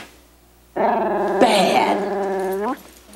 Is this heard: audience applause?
no